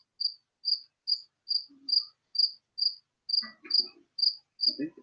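Close, regular chirps from a cricket indoors repeat at a steady pace, with a few faint words of speech near the end.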